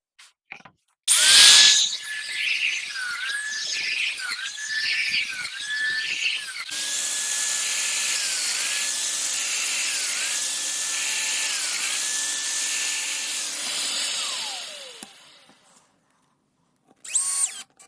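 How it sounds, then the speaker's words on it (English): A Festool Domino joiner plunge-cuts mortises for lock tenons in a board, its loud, steady high motor whine dipping in pitch with each repeated cut for about fourteen seconds before spinning down. "I'm going to mark some positions on this board for, in fact, where I'm going to mortise my lock tenons"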